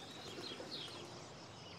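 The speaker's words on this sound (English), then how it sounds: "round the back, the doves are all in a flutter at the arrival of the constabulary." Doves fluttering at the back of a country house grounds, a soft continuous flurry of wing flaps with faint coos, steady and low in level throughout, with no voices.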